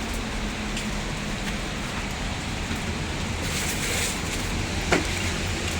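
Rain falls in a steady, broadband wash, close and even, with a few faint brief knocks but no voices.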